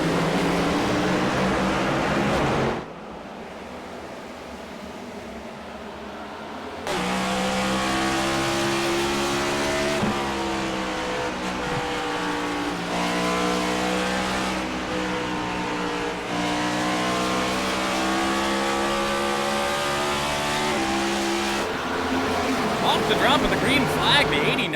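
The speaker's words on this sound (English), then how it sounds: "As we head back to green, what is likely the final time. Sterling Marlin, Tony Kanaan will take the green flag again." Simulated race cars in an iRacing NASCAR All-Star Open event rev and accelerate after a restart, with engine tones rising and shifting in waves under continuous commentary.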